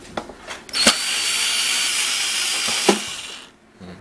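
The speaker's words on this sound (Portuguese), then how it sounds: "Vamos tirar aqui os parafusos." A power screwdriver whirs continuously for about two seconds while backing screws out of a Technics SP-15 turntable, with clicks and handling knocks before and after; no talking.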